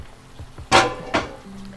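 Leftover chicken masala is tipped and scraped from a container into a cooking pot, giving two short, close clattering pours with light knocks of utensils on metal and no talking.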